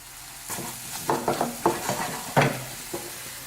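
Green chillies stir-frying in a pan for chilli paneer after soy sauce goes in: a soft steady sizzle with a handful of sharp spatula scrapes and taps spread across a few seconds, no voices.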